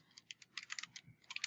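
Computer keys clatter in quick, uneven bursts as dates are entered into a calendar, close up but quiet, with brief pauses between clusters of keystrokes.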